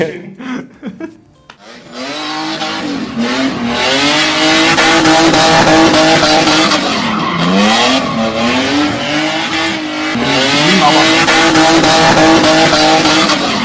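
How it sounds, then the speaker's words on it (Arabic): A car drifts in a Gulf-style stunt, its engine roaring loud and close while the tires squeal continuously in long wavering screeches that rise and fall for more than ten seconds. "ايه ده انت عارف التفحيط؟"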